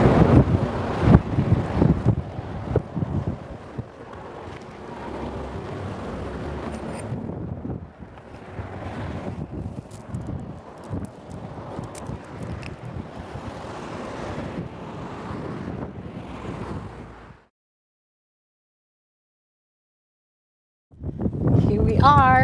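Blustery wind in Wellington, New Zealand, roars and gusts loudly against the microphone beside surf, with a voice talking under it, then drops to silence before a loud gust returns.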